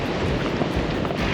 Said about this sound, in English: the waves are crashing against this little outcrop